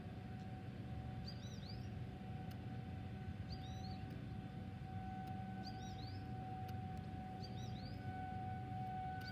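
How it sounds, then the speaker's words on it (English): A Federal Signal 2001 tornado siren in Grosse Pointe, Michigan holds a steady, distant wailing tone outdoors for the whole stretch, with birds chirping now and then over the faint hum. "There goes the second 2001 siren."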